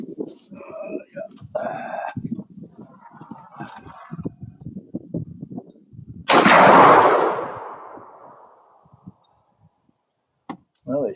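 A single loud gunshot from test-firing a factory ammunition load, a heavy boom with a long, fading tail, preceded by talking.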